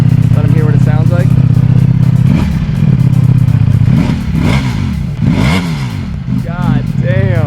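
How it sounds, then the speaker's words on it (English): Ducati Panigale V4 SP motorcycle engine revving close by, a loud idle punctuated by several sharp throttle blips that rise and fall in quick succession. "But Dado, you want to rev it real quick for him? Yeah. Let him hear what it sounds like"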